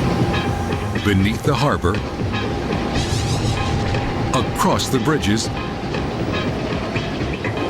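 An airport express train in Hong Kong runs beneath the harbor and across bridges with a loud, steady rumble and rhythmic clatter throughout. A narrator speaks over it.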